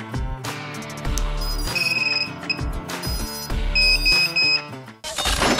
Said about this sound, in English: Put a battery in. It's gonna beep.